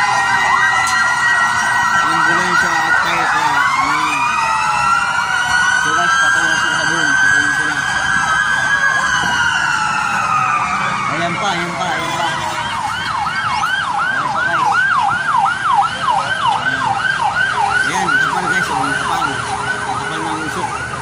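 Fire truck and ambulance sirens wail loudly at a fire near Parañaque City, overlapping with sweeping rising and falling tones, then a fast yelping cycle, close and continuous; a person speaks over them.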